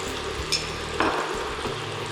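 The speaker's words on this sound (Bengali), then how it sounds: "একটু পেঁয়াজটা সোনালি রং করে ভাজতে হবে।" Onions fry in a pan, a steady close sizzle with a couple of soft stirring scrapes and no talking.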